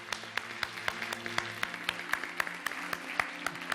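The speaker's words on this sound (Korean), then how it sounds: "우리 격려의 박수 한번 하도록 하겠습니다." Congregation applause in a church service: a steady patter of clapping with a few sharp, louder claps standing out, set against a low sustained hum, moderate and close.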